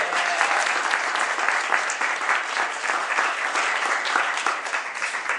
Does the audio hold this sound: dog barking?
no